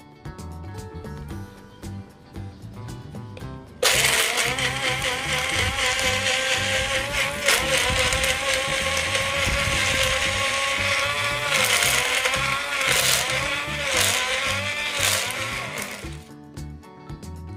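An electric kitchen blender grinding ginger for a home remedy drink kicks on abruptly after a few quiet seconds, then whirs loudly and steadily for about twelve seconds before cutting off, with no talk.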